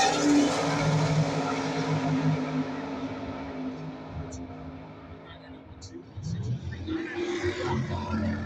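Purpose-built drag race cars, including a reproduction-body 94 Beretta, roar at Zmax Dragway in Concord, a broad engine rumble fading then swelling again, heard under steady commentary.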